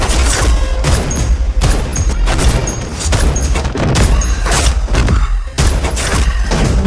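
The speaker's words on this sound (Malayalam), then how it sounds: "പടത്തിന്റെ തുടക്കത്തിൽ കാശ്മീരിലുള്ള നമ്മുടെ നായകൻ അജയേട്ടൻ വെടിവെപ്പ് പരിപാടിയിൽ ഏർപ്പെടുകയാണ്" A loud, dense barrage of gunfire and booming impacts fills a film action scene set in Kashmir in Singham Again, coming in heavy bursts with only short gaps between them.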